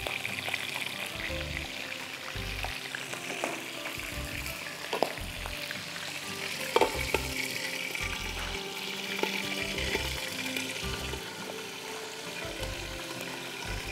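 Almonds frying in hot oil for an Arabic Ruz Bukhari rice dish give a steady, close sizzling hiss, with a few light clinks and scrapes and no talking.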